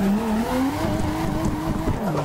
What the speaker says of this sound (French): on a failli réussir un drift d'ouf